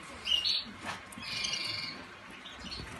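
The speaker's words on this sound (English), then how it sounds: "This is just some young birds, couple of canaries, young siskins." Young canaries and siskins chirp and tweet in short, thin bursts, moderately close, amid a quiet background hiss.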